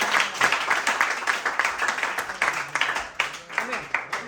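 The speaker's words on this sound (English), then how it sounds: "Give him a big clap, please." An audience claps for a speaker with steady, fairly close applause, and voices are heard mixed in.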